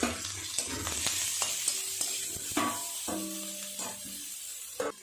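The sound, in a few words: bitter gourd frying with salt and turmeric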